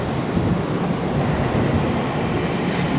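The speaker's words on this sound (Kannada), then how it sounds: "ಬಂತು ಗಾಡಿ. ಈ ಟ್ರೈನ್ ತೊಗೋಬೇಕು ನಾವೀಗ." A train in Tokyo, Japan rumbles steadily and loudly past the station without stopping, a continuous low roar with broadband hiss and no voices.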